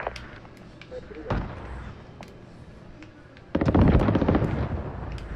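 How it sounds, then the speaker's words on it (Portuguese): Shotgun blasts bring down a drone in Call of Duty: Modern Warfare, two sharp bursts in a sequence of game gunfire, moderately loud with a short clatter of impact after the second shot. "Esse drone é facinho de destruir. Com tiro de escopeta"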